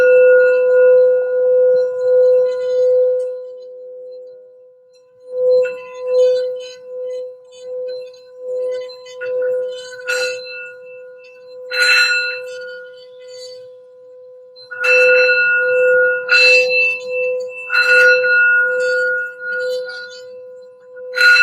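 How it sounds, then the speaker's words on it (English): Singing bowl style sound bell rung for grounding and healing, a clear sustained tone ringing steadily, struck again several times with bright shimmering overtones blooming and slowly fading, close and resonant. "we're gonna do a quick sound bell for some general grounding and for healing for the reading"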